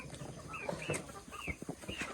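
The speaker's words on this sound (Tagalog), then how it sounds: "Ay, aking mga manok." Pet chickens cluck in a run, several short rising calls spaced across the moment at close range, with soft scratching and farmyard noise between them and no talk.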